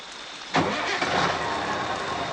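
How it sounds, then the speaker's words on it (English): Truck engine starting: a sharp crank catches into a steady, close mid-pitched idle that runs to the end, with no speech over it. "Joe started the engine again."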